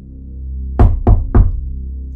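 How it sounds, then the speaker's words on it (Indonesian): Three firm knocks on a cabin door on a mountain, evenly spaced and close, sounding over a low steady hum in an audio drama. "ia dikejutkan oleh suara ketukan pintu pondoknya"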